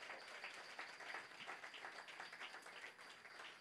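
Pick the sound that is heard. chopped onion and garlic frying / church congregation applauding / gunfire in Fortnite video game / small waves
church congregation applauding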